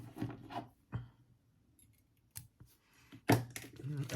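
Scissors snipping thread on a fly-tying leech, a few sharp close clicks spaced apart between quieter handling sounds, with a voice briefly present.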